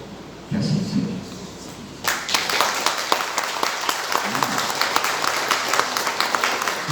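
An audience at a Spanish-free Brazilian spiritual talk breaks into applause after a brief quieter moment, then sustained many-handed clapping fills the rest, steady and fairly close.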